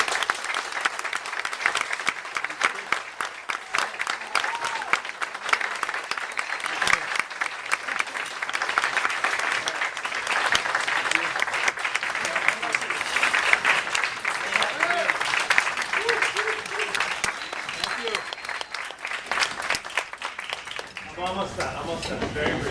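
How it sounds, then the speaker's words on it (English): A party audience claps steadily for a father at his 60th birthday celebration, a dense sustained round of applause with scattered cheers and voices mixed in, tapering slightly near the end. "can you please offer up a round of applause for my father?"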